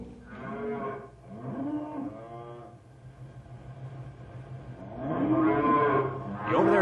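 Cattle mooing as a radio drama sound effect, long low drawn-out calls from several animals, one early and another louder pair near the end, with no talk.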